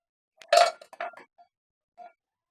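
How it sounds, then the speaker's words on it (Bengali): A saucepan is set down on a gas stove with one sharp metallic clank, followed by a few lighter clinks and rattles and a faint final tap in an otherwise quiet kitchen. "প্রথমে আমি গ্যাসটা অন করে নিলাম, ওর উপরে একটা সসপ্যান বসিয়ে নিলাম"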